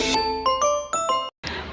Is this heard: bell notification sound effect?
yes